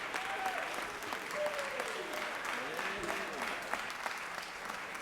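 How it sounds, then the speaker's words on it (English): Guests in a state Senate chamber receive a round of applause, a steady wash of clapping from the room while a few faint tones and murmurs drift underneath. "please give our guests a round of applause and thanks for all of their hard work"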